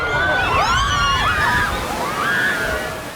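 Ocean waves wash and slosh continuously at a crowded South African beach, a full rushing surf sound heard close and loud beneath a narrating voice.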